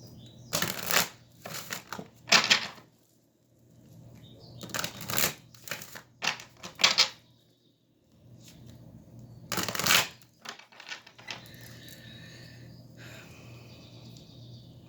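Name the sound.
shuffling oracle cards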